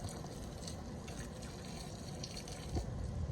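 Water poured or run from a tap into a pot of oxtail being cooked at home, a steady soft gushing and splashing, fairly quiet and uninterrupted, with no talking.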